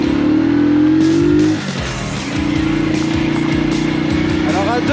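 A motorcycle carrying two riders revs and pulls away, its engine droning loud and close with a brief dip before climbing again as it moves off, with people talking over it.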